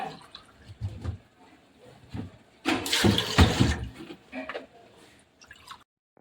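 Tender coconut water poured into a bowl in a kitchen, uneven splashing trickles with a louder central gush before tapering to drips, and a voice talks intermittently.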